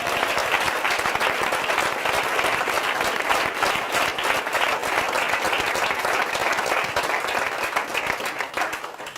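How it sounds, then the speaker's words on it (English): A large audience at a child health event gives a sustained round of applause, dense and even throughout, heard from within the crowd with no speech over it. "I want you all to give him a round of applause"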